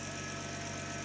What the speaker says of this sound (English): That's one of the nicest idles I think I've ever heard in this car.